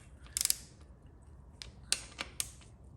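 A torque wrench ratchets in short bursts of sharp metallic clicks while bolts are tightened, close and fairly quiet, with small pauses between pulls and no talking.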